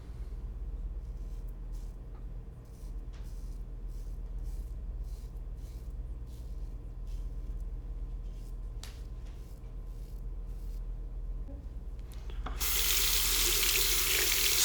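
Tap water runs steadily while a Feather AS-D2 stainless steel safety razor is rinsed, a soft continuous flow that surges into a louder, brighter gush near the end.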